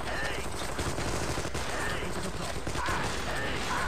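Machine gun fire in a Star Wars video game, a dense, continuous rattle of shots that fills the whole stretch at a constant loud level, with voices faintly mixed underneath.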